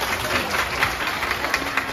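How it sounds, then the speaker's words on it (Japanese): Brief, moderate applause from an audience at a high school wind band concert, a short patter of many hands clapping at even volume. "拍手。"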